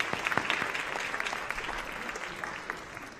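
Audience applause for student performing societies at a cultural show, a dense steady wash of clapping with crisp individual claps standing out, loud and sustained throughout with no talk.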